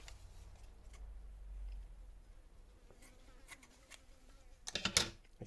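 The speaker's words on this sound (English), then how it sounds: "We'll cut this off with the shears." Shears snip through a self-adhesive bandage wrap near the end in a few quick, crisp cuts, after a quiet stretch with faint low rumble.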